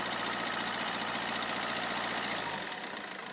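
A used car's engine idles with a steady, mid-pitched hum and a faint rattle, fairly quiet, settling slightly lower toward the end.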